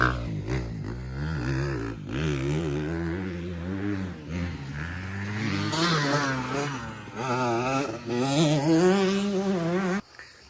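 A motocross dirt bike at a summer training camp in Spain drones on light throttle, its engine pitch wavering up and down in small revs, fairly close and continuous before cutting off abruptly near the end.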